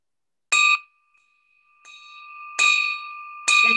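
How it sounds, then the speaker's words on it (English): A bell struck in celebration at a Thanksgiving fellowship gathering, three loud bright rings with a sustained tone lingering between strikes, heard alone with no talk. "So I'd like to ring the bell 5 times to celebrate"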